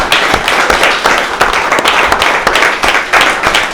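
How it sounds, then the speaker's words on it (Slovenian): A large audience applauds the guest at a book presentation in a library, dense steady clapping that is loud and close and carries on throughout without pause. "Pa dajmo zaploskati vsem skupaj že za začetek."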